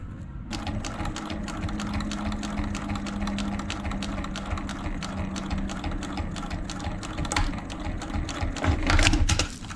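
A sewing machine stitching fabric for a chest strap, a rapid mechanical clatter running steadily for several seconds with small pauses and a louder burst near the end, close up and alone without speech.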